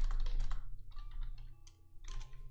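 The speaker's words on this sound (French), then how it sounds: "que le son du clavier s'entend pas trop, vu que mon micro est juste à côté" Close computer keyboard typing picked up by a nearby microphone, a quick irregular clatter of key presses in several bursts with brief pauses between them.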